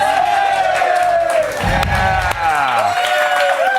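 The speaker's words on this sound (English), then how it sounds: "But we're still clapping" A television studio audience claps and cheers loudly and continuously, with a few whoops rising over the steady crowd noise throughout.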